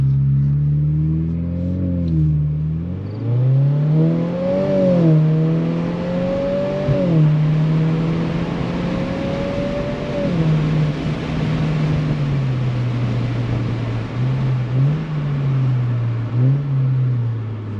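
A 2022 Subaru WRX fitted with an ETS cat-back exhaust rumbles at idle, then blips and revs in several rising and falling sweeps before settling back to a steady low idle, loud and close with no talk.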